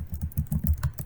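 Rapid keystrokes on a computer keyboard while writing Matlab code, a quick irregular run of soft, close clicks with no pauses over about a second.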